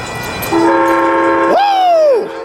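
Amtrak locomotive 190, leading single-level passenger cars into Carlsbad Village station, blasts a loud, close, chorded horn for nearly two seconds that slurs and drops in pitch as it ends, over a rumbling background.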